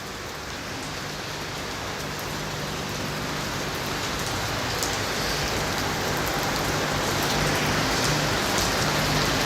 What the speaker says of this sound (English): The rain is horrible.